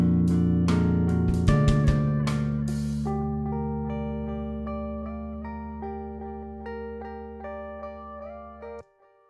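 A song's ending, with drums and bass hits stopping early while sustained keyboard-like chords and a repeating melodic figure continue and slowly fade, alone with no talk, cut off near the end.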